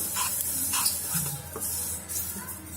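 Light crackling and sizzling from seeds toasting in a dry pan, a steady bed of small pops with occasional scraping stirs, close by.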